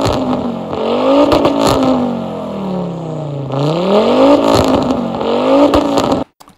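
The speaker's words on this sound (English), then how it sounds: "we got a 5-cylinder V70 Volvo" Five-cylinder Volvo V70 engine revved hard repeatedly, pitch climbing, dropping and climbing again in loud close bursts, then stopping abruptly.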